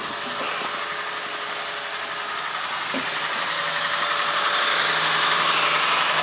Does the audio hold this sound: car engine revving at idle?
yes